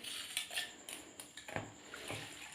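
Crushed ice is stirred into homemade cold coffee, producing quiet clinks and light scraping of a spoon against a glass in a few irregular taps, with no talking.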